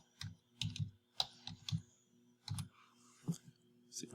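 Keys clack on a computer keyboard in a quiet room as someone types a login into a web server in a virtual machine, with irregular clusters of close, moderately soft strokes and brief pauses between them.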